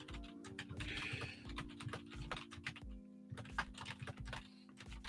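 Fingers tap quickly on a computer keyboard in irregular bursts of clicking keys, faint and nearby, with a steady electrical hum underneath and no talk.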